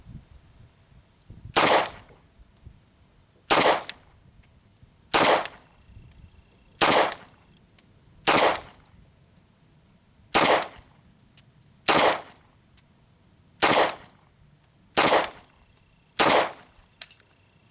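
Ten sharp pistol shots from a CZ P-07, fired one at a time at an even, unhurried pace about every one and a half to two seconds, loud and close against a quiet background.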